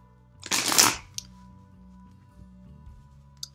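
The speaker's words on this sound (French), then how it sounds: "on a vraiment plaisir à les mélanger" A deck of Game of Thrones tarot cards is riffled once in a short, close burst, with faint ticks afterward.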